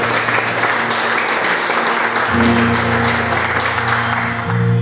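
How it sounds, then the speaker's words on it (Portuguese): A church congregation applauds in praise, a steady dense wash of clapping held at even loudness throughout, with sustained organ or keyboard tones entering partway and continuing beneath it. "uma salva de palmas ao Senhor, amém?"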